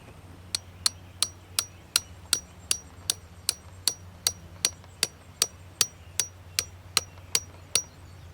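A hammer drives a flag pulley stake into field ground for a goose decoy setup, about twenty sharp, evenly spaced strikes landing close and alone over a low steady hum.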